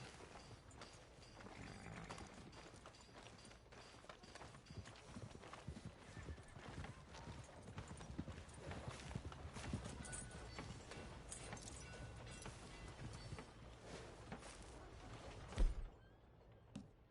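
A horse's hooves clip-clop steadily in the Red Dead Redemption 2 video game, a close, continuous rhythmic walk layered over in-game ambience for most of the stretch, ending with a thump as the noise drops away.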